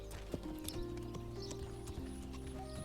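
Horse hooves clip-clop steadily in the medieval village-building game Manor Lords, a quiet repeated rhythm of hoofbeats over a low ambient game backdrop, with no talking.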